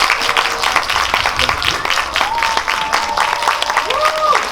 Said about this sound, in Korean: 큰 박수 맞으시기 바랍니다.